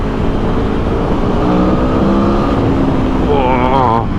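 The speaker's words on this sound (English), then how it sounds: "It is long geared, and it does encourage you to rev it out, because as we're going to find out, it sounds so flipping good." A 2022 Aprilia Tuono V4 motorcycle engine revs hard and steadily for the whole stretch, loud and close, with the pitch rising sharply near the end as it climbs through the revs.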